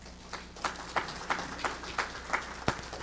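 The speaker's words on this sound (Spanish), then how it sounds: "Un aplauso a nuestro Señor." A church congregation claps along to a sermon's call for applause, giving quiet, fairly distant handclaps that land in a loose, steady rhythm rather than a dense ovation.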